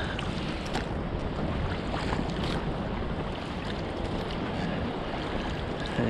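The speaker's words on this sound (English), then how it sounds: "Just enjoying the waves." Sea waves washing around a small dinghy in Ness Cove near Shaldon, a steady broadband wash of water and wind buffeting the microphone, fairly loud and continuous throughout with no talking.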